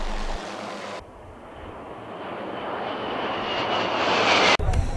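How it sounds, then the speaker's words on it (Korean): Supersonic fighter jets fly past at the Wonsan international air festival, a steady roar that swells toward a loud peak and then cuts off abruptly, with no talking. "우리나라의 첫 여성 초음속 전투기 비행사들의 비행은 절정을 이루었습니다"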